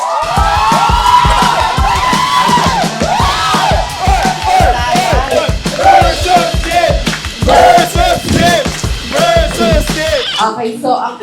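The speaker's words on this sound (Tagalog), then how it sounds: "Palakpakan na may kasamang hiyawan sa team versus team" A team audience claps and shouts together at a group event, with dense, loud rhythmic clapping under excited cheers and yells that carry on steadily before fading at the end.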